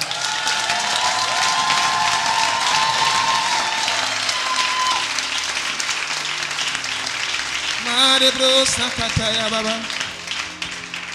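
A church congregation at a French-language worship service applauds and cheers loudly, sustained crowd clapping with voices and a singer or speaker over it, fading somewhat before a burst of louder voices near the end.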